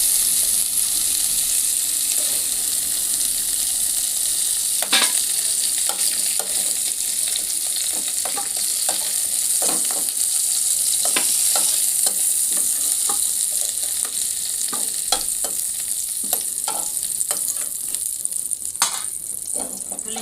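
Cauliflower pieces fry in hot oil in a pan, giving a continuous bright sizzle with scattered clicks and scrapes from stirring throughout.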